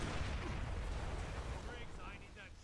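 Explosions and incoming missile blasts in the video game Splinter Cell Blacklist, a dense, continuous low rumble of booming detonations filling the whole stretch with no break.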